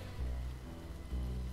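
Rain pattering steadily on umbrellas in a short game-jam video game, a dense close wash with two louder surges.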